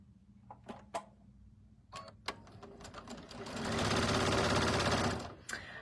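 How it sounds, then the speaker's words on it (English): A sewing machine stitches down the long edges of a cinch bag strap, running in a steady close buzz for about two seconds after some scattered clicks and handling noises. "And we are going to stitch down both long edges."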